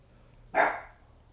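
A single sharp dog bark, loud and close, rising out of a quiet background and fading quickly.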